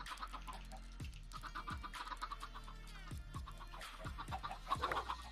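A chicken in modded Minecraft gives a series of short clucks, about six distinct soft calls spaced through a quiet scene, fairly faint with light background game noise.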